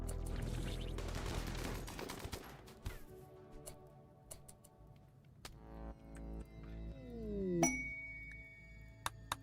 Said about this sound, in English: All of you shoot that one.